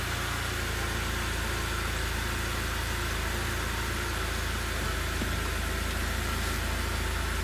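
A BMW engine idles steadily nearby, giving a constant low hum and vibration that stays even throughout, with no voices.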